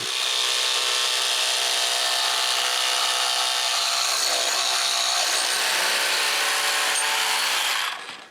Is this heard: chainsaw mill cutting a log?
yes